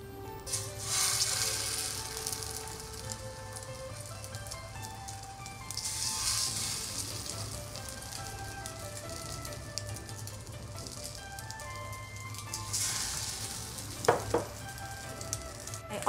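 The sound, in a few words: Chinese New Year cake with egg pan frying in hot oil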